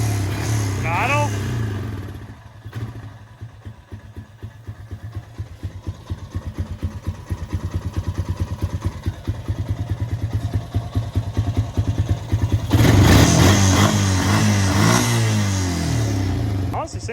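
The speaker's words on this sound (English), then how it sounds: "I think it's still got the choke pulled up a little bit, so it's not going to idle perfect." A Honda Rancher ATV engine idles roughly with its choke partly on, chugging in an uneven pulsing rhythm up close, then revs up briefly and louder near the end.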